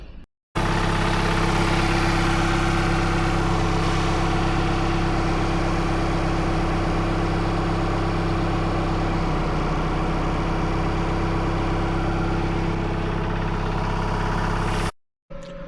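A Ford Transit Custom van engine idles steadily with an alternator overrun pulley fault, giving a constant close low rumble with a mechanical whir layered on top, running unbroken for about fifteen seconds before cutting off.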